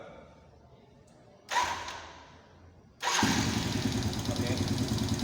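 A four-stroke motorcycle engine, just after a valve clearance adjustment, gives a brief starter whirr, drops back, then catches and settles into a steady, loud idle close by.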